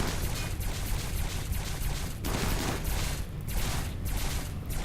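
Sustained turret gunfire from a base defence in modded RimWorld, a dense rapid continuous rattle of shots with some heavier bursts, loud and steady throughout with no talk over it.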